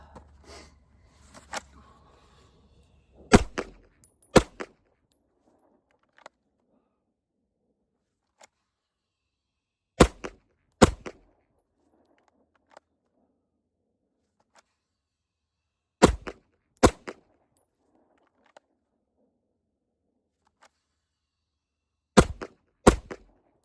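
Pistol shots fired in pairs during a Dot Torture shooting drill with a Holosun 507c red-dot optic, four sharp, loud double shots spaced several seconds apart with quiet gaps between them.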